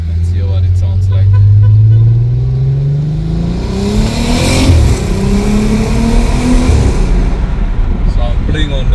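A VW Caravelle T5 van with an R36 engine swap and aftermarket exhaust accelerating hard on the road, loud rising engine roar through the gears, then a brief shift and a second climbing pull, with talking over it.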